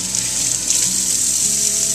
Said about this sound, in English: Go ahead and turn the water on. Wet your hands.